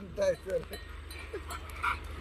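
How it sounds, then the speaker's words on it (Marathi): A bell hanging from a bull's neck rings in light, intermittent clinks, with voices in the background. "त्याच्या गळ्यात घंटा"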